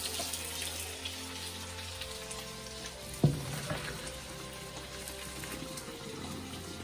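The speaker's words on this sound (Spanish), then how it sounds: "Lo voy a retirar del fuego y colarlo." Cooked pasta for a creamy Mexican green pasta poured into a colander, with a steady watery rush and hiss and a single clunk of the pot partway through; no talking.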